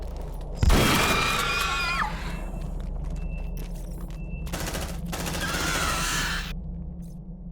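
Sci-fi squad gunfire from Aliens: Dark Descent erupts in a loud opening blast, then rolls on as sustained automatic bursts with a second heavy volley midway, dense and close.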